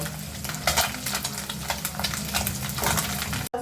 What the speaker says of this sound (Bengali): এখন আমি ভেজে নেব মাছগুলোকে। আমি হালকা ভেজে নেব।